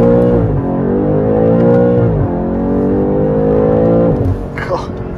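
A BMW M8 accelerates hard from a standstill without launch control, its engine roaring loud and close as it rises through the revs, with two gear shifts marked by brief drops in pitch.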